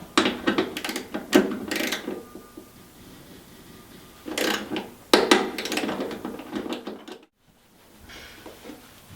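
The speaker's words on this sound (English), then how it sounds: "Now we torque them all to 18 foot-pounds." A torque wrench ratchets and clicks in several close bursts while bolts on a Yeti SnowMX drive shaft assembly are torqued to 18 foot-pounds, with brief pauses between the clusters and a quiet stretch near the end.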